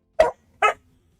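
A dog barks twice in quick succession, close by and loud, with quiet between the barks.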